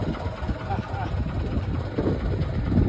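A fishing boat's engine runs steadily out on the water off Mumbai, a low continuous drone with wind buffeting, while people talk over it.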